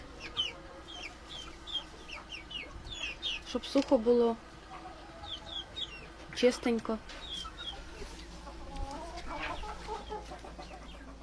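Young chickens cheep and cluck steadily in an enclosure in a Ukrainian village yard, with occasional louder squawks, while someone speaks briefly over them.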